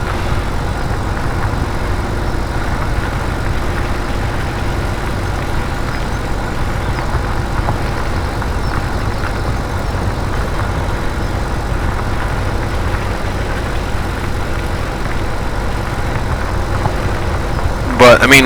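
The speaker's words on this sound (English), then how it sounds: "this tractor pulls it just fine" A farm tractor's engine runs steadily in a field, a continuous low idling rumble that stays even and fairly loud throughout, with a brief clatter at the very end.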